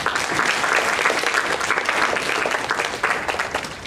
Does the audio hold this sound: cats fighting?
no